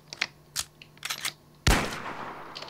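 Gun reloading in the Minecraft Flans Mod 3D guns pack: a few short mechanical clicks and clacks, then one loud sharp shot-like burst that decays into a fading tail.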